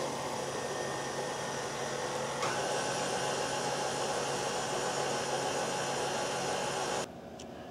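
An electric mixer whisks egg whites with salt for macaroons, giving a steady loud whirring drone close up that shifts pitch slightly partway through and then cuts off abruptly near the end.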